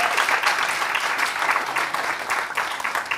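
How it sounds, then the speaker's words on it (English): A panel audience at a One Young World session during COP26 claps for a youth speaker, a steady crowd applause with fluttering individual claps lasting a few seconds. "So a round of applause for him too."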